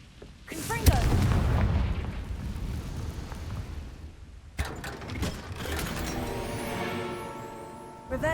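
Confringo spell blasts in Hogwarts Legacy: a heavy boom near the start, then a second burst with crackling, clattering debris and ringing tonal effects trailing off.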